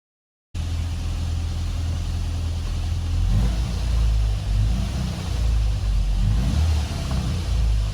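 A classic Mini fitted with an air-fuel ratio gauge fires up after a brief silence and settles into a steady, loud, close idle with a low, even engine drone that slightly swells midway.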